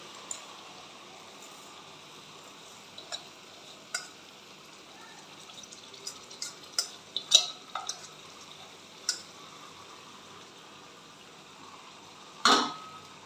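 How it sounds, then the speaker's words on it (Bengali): Rice is stirred into chicken pulao in a pot, giving faint, scattered spoon clinks and soft scrapes against a quiet background, with one brief rougher scrape near the end. "এবার চালটাকে ভালো করে মিশিয়ে নেবার পর আমি জলটা দেব চালটা আমার মেশানো হয়ে গেছে"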